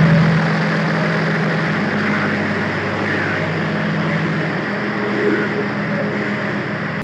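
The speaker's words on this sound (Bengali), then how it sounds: "ইতিমধ্যে আমাদের আন্তনগর চিত্রা এক্সপ্রেস ডিপারচার নিচ্ছে দেশের সবচেয়ে বড় junction railway station Ishwardi junction railway station থেকে" Intercity Chitra Express train departing Ishwardi Junction railway station, a steady low engine rumble and broad mechanical roar, close and continuous.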